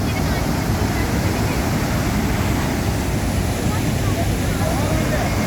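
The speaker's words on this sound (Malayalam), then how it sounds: "ഇതാണ് ആതിരപ്പള്ളി വെള്ളച്ചാട്ടത്തിൻ്റെ ഏറ്റവും അടിഭാഗത്ത് നിന്നുള്ള ദൃശ്യങ്ങൾ" Athirappilly waterfall roars from its base in a loud, continuous broadband rush of crashing water, with wind buffeting the microphone.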